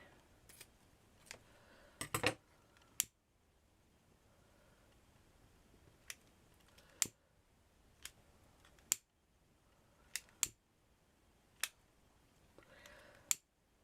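Scissors cutting chiffon fabric for a fabric flower, sparse sharp snips spaced a second or two apart in a quiet room, close and distinct.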